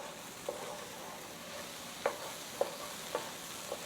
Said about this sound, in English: we're going to just saute these until the onions start to soften and turn a little bit translucent